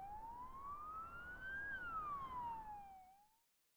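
A police car siren wails in a single long rising and falling sweep. It is loud and steady against a low rumble of traffic, then cuts off abruptly.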